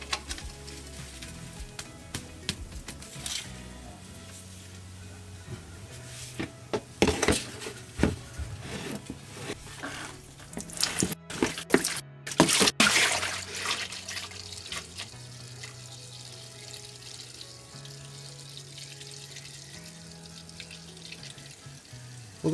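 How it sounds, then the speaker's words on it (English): Engine oil drains from a Toyota 22RE pickup, a trickling, splashing stream with irregular spatters and knocks that swell in the middle and then settle into a thinner flow. "So I'm gonna go ahead and drain the oil now."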